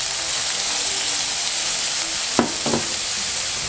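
Onions frying in oil and a knob of butter in a pan, a loud continuous sizzle with a brief stirring clatter partway through.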